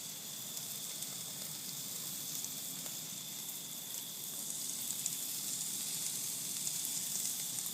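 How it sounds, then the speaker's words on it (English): Steady, even sizzling and hissing of a steak on an outdoor grill in late October, a constant crackle with no talking over it. "at the moment I'm out here grilling in the end of October, one of my signature dishes"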